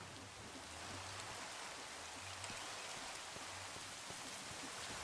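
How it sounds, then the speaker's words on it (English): Steady rain falls in the Minecraft game, a dense, even hiss that holds at the same level the whole time, with no talking. "Now it's raining again."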